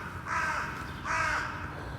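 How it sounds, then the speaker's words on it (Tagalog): Crows cawing in two loud, harsh bursts from trees near a quiet playground, each call drawn out and noisy, with no talk over them. "ang ingay ng mga ibon."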